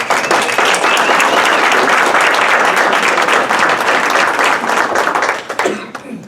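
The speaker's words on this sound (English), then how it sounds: "please give a round of applause for Jude Memorial for hosting this" A church audience gives a sustained round of applause at a religious conference, dense clapping at full strength for about five seconds before thinning out and fading at the end.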